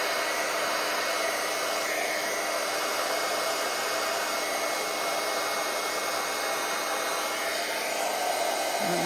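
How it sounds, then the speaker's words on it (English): A heat gun blows a steady, loud rush of hot air over resin on a deep-dish turtle resin art piece, continuing without a break for the whole stretch with no talking. "I've got my heat gun. And I'm just going to heat it up a little bit."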